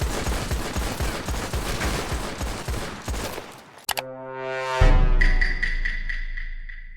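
Gunfire from a Red Dead Online gunfight: loud, rapid overlapping shots crackle continuously for several seconds, then a sharp blast and ringing, tonal game sounds follow.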